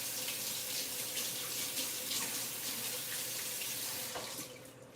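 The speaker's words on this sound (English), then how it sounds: "let me quickly wash my hands" Hands are washed under a running kitchen tap, with a steady splashing water stream and soft irregular sloshing as the hands move through it, fairly quiet and close, easing off toward the end.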